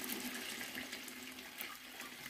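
Wheat being washed in a flowing stream, a steady rushing, splashing water sound, close and continuous throughout.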